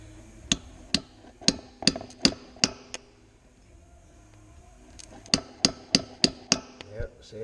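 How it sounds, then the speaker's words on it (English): A hammer taps a drill bit to drive out a blind bearing on a 2007 Honda Rancher ES ATV: two sharp runs of metallic strikes about half a second apart, separated by a quiet pause. "And then I got the drill bit and I got a hammer."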